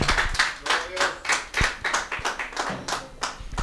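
A church congregation claps in a brisk, even rhythm, about a dozen sharp claps in quick succession that are loud and close, with no talking over them.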